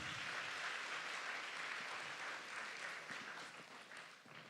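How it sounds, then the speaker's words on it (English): Audience applause at a group gathering: a steady, dense wash of many hands clapping that holds evenly throughout and fades slightly near the end, fairly faint and with no voices over it. "Give a round of applause to all of you."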